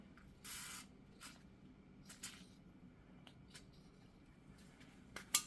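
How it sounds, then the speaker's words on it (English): WD-40 sprayed onto a Jeep Wrangler wheel bearing, a quiet close hiss in a few short bursts separated by pauses, with faint clicks and handling noises around them. "So we are going to spray some WD."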